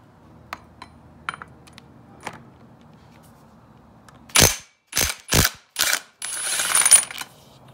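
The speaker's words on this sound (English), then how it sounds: "And now we should be able to spin that nut off." A ratchet spins a nut off a Yamaha YFZ450 engine during a bottom-end teardown: a few faint clicks at first, then four loud, close bursts of rapid ratcheting followed by a longer whirring run.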